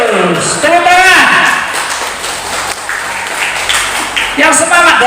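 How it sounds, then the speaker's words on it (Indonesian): Short burst of audience clapping at a children's religious quiz contest, loud and close, mixed with voices and a host speaking over it. "Tepuk tangan"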